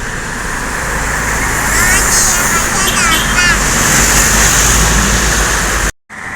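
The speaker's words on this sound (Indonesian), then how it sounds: "Rombongan bus yang kedua, Thalia Indah." A Thalia Indah tour bus, the second in a convoy, passes on a road with a loud, sustained roar of engine and tyres, with traffic noise around it and a brief horn-like tone in the middle.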